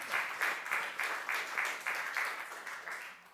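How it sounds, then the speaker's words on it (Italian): Audience at a journalism festival in Verona applauding in memory of a journalist, a steady round of clapping from a crowd heard at a distance, fading slightly at the end. "vorrei che questa sera, così, un applauso per ricordarlo"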